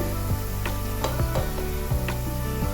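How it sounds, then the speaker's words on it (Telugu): Onions fry slowly in a pan with a dense continuous sizzle, and a utensil scrapes and knocks against the pan in repeated strokes about every half second. "ఆనియన్ అంతా కూడా చక్కగా ఫ్రై అయిపోయింది"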